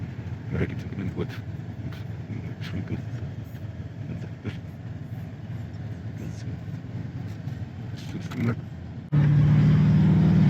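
A boxy Chevy with a swapped-in LS engine drives along with a steady, rumbling engine drone under a voice, then a louder, even hum takes over for the last second.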